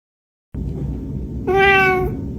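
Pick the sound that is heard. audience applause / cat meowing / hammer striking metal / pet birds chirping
cat meowing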